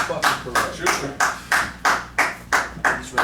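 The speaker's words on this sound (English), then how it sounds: "I'm just gonna keep clapping." Hands clap in a steady, even rhythm, about three claps per second, loud and close, with faint background noise.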